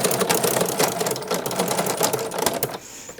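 A sewing machine fitted with a ruffler gathering foot runs at speed, a loud, rapid mechanical chatter of stitches with rhythmic clacks from the pleating action, close up, then stopping abruptly near the end.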